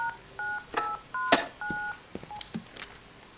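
Touch-tone telephone number dialed in the video game Dr. Langeskov, with a quick run of distinct DTMF beeps sounding one after another, close and clear, interspersed with small clicks and no talking.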